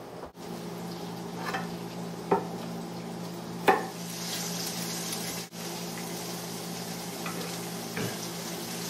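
A pork sirloin roast browns in a very hot pan, giving a steady close sizzle with a low hum beneath, a few sharp clatters and a brief dropout partway through.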